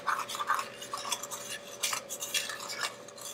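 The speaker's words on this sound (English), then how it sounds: "we've mixed in our sugar and our cocoa" A spoon scrapes and stirs sugar and cocoa in a pan, soft irregular strokes close by and fairly quiet, with no talking.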